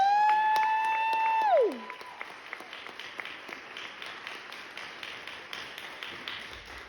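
An audience applauds for the Periscope Chattanooga artists at a pitch night, a steady patter of many hands clapping after a sustained tone fades out early on.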